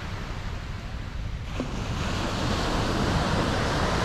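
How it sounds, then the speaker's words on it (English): Ocean waves wash onto Versova Beach in Mumbai as a constant, broad roar of surf. Wind buffets the microphone, and the sound grows slightly louder toward the end, with no voices. "Look at those waves."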